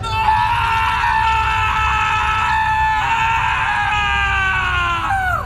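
A man screams loudly in a horror story setting, one long, harsh, sustained cry lasting about five seconds, close and strained, its pitch sliding downward as it trails off at the end.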